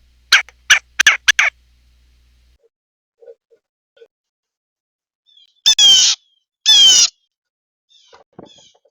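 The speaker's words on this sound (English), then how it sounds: "Here is an example of a red-bellied woodpecker and a blue jay." Wild birds at a backyard smart feeder, a red-bellied woodpecker and a blue jay, give several short clipped calls at the start, then two loud harsh drawn-out screams a second apart, with faint chirps between.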